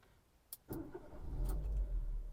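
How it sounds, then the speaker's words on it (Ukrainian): A Dacia Duster engine with 200,000 km cranks briefly, then catches and settles into a low, steady idle rumble, close by. "Давайте запустимо двигун."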